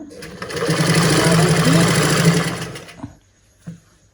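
A sewing machine stitches a folded pant hem in one fast continuous whirring run close up, stopping abruptly near the end, followed by a couple of brief clicks.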